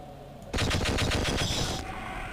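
Rapid automatic weapon fire from the video game Half-Life, a loud burst of about nine quick shots in even rhythm followed by a lingering ringing tail, with no talking.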